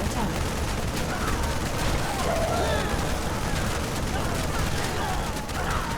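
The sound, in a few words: gunfire from units in StarCraft II video game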